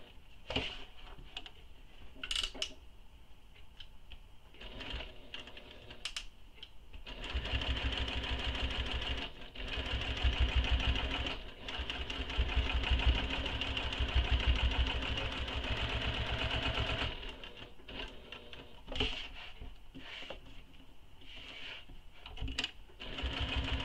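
A sewing machine stitches along the side edge of a mini backpack in bursts, with a sustained steady whirring run in the middle, close and clear with short pauses and handling clicks between runs.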